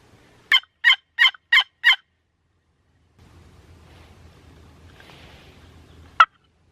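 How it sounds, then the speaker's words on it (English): A wild turkey gobbles five times in a quick run from a high point during Colorado's spring turkey season, the calls sharp with echo, then a low rumble of wind and one last short gobble near the end. "Alright, so I just got one gobble. Sounded really far off"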